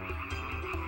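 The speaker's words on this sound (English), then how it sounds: "The river Nile swarmed with frogs that invaded everywhere and jumped everywhere." Frogs swarming near the river Nile, a dense continuous chorus of croaks pulsing in quick regular beats, loud and close with no voices.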